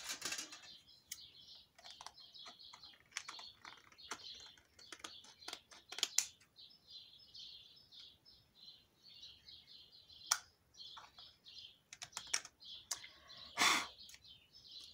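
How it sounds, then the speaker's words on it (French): Scissors snipping off a small corner of paper: a faint series of short, crisp snips and clicks, close by, in a quiet room. "J'ai un petit angle ici, on va le couper au ciseau."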